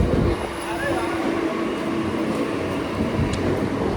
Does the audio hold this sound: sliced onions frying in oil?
no